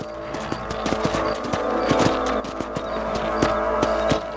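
Horse hooves clip-clop steadily at a riding pace in the Red Dead Redemption video game, a regular rhythm of hoofbeats close by over an ambient background of layered game music or sound.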